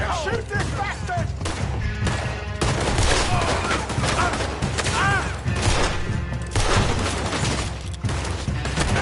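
Rapid gunfire in Red Dead Redemption, dense volleys of overlapping shots and cracks that keep going throughout, loud and close, with voices shouting amid the fusillade.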